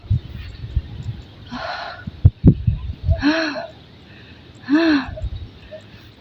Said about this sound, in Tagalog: Ako hinihingal.